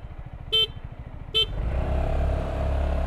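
Two short, loud blasts from a vehicle horn signal the start of a scooter race between a Yamaha XMAX 250 and a Honda Forza 250, followed by engines revving up and accelerating nearby.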